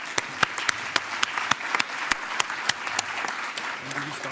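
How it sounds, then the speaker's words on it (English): A conference audience applauds the speakers at a retina congress, with sharp individual claps standing out near the microphone against a broader spread of clapping across the hall. "And so just one more round of applause and a big, big thank you to all our speakers."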